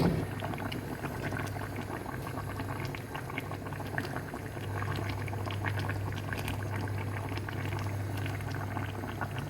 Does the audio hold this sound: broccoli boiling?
yes